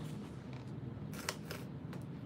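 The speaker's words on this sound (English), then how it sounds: "you're going to start with the center curves, your little center snips" Scissors snip fabric curves while a backpack is sewn. Several short, crisp cuts sound close by in the second half, over a steady hum in the room.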